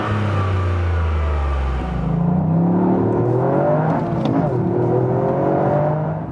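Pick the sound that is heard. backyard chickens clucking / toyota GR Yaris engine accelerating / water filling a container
toyota GR Yaris engine accelerating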